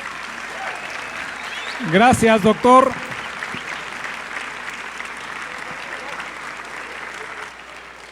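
A conference audience gives a sustained ovation to a doctor at the end of his lecture. The steady, even clapping fills the whole stretch, and someone briefly speaks over it near the start.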